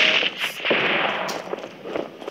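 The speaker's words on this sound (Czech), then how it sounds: "Házím flashbang." A flashbang grenade bursts in the mobile shooter Modern Strike, a dense loud crack with a sustained hissing ringing that fills the whole stretch, with small rattles and game effects layered on top.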